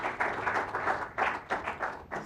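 An audience applauds to welcome a panel speaker at a supply chain conference in Morocco, with bursts of clapping rising and falling in close, uneven waves and no speech over it.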